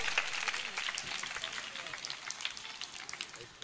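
A church congregation claps together during a worship service, a steady, dense patter of many hands heard from some distance and fairly quietly throughout.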